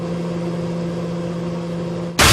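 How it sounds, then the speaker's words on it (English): A loud microwave oven drones with a steady low mechanical hum, then a sudden loud burst of noise cuts in at the very end. "Or when the microwave's too loud."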